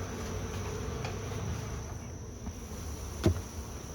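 A soft, steady buzz of honey bees droning together in an open hive during a heat wave, with a brief louder knock near the end.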